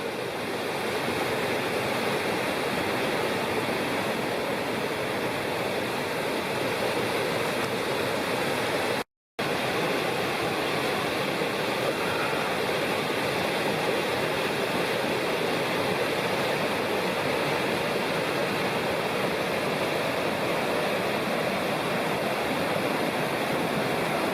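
A mountain creek rushing steadily over rocks in the Upper Bald River Wilderness, a loud continuous wash of water with no voices.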